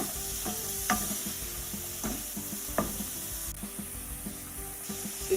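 Vegetables for vegetable rice fry in a pan with a steady sizzle, broken by several scraping stirs of a utensil against the pan.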